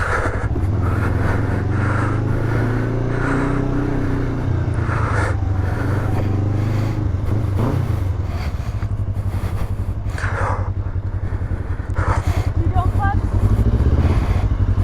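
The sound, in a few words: 2003 Kawasaki ER5 motorcycle engine while riding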